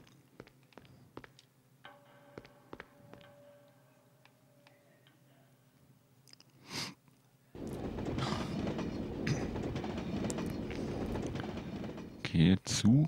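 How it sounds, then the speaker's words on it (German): A train rushes past in the PS2 video game Blade 2, a loud sustained rumble that comes in abruptly after several seconds of quiet ticking and clicking game sounds, with a short burst near the end. "Okay, Zug, dann weiter."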